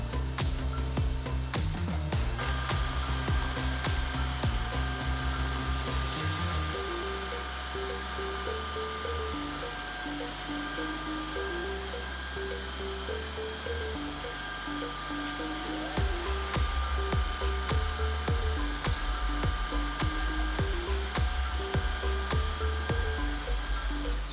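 Bissell Crosswave and Tineco wet-dry vacuum mops run side by side over a thick sticky relish mess in back-and-forth passes, a loud continuous motor whine with rattling pickup noises, while a person talks over it.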